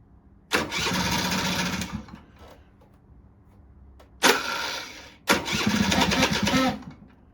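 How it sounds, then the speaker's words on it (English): A 1982 Honda Melody scooter with fuel system problems and an automatic choke is started twice: a cranking, sputtering engine burst of about a second and a half, a pause, then a short blip and a second longer run, close and loud. "ignition on, brake lever on, start."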